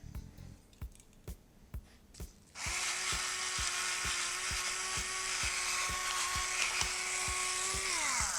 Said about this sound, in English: This is my new awesome black pepper grinder that I love. I love freshly ground pepper.